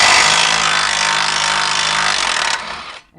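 A power tool, likely an impact wrench, removes 18 mm caliper bracket bolts on a Ford Crown Victoria, giving a steady loud buzzing whir for about two and a half seconds before stopping abruptly, with no talking.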